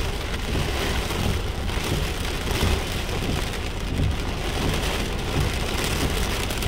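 Heavy rain pours in a storm while driving in Las Vegas, a dense, steady roar of drops drumming on the car without a break.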